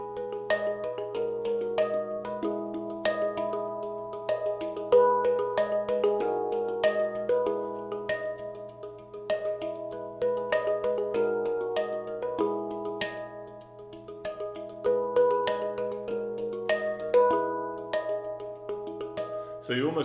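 A NovaPans handpan plays a fast, continuous pattern of bell-like steel tones, with soft ghost notes filling the spaces between the accented strikes. It is close and even, rippling steadily for about twenty seconds.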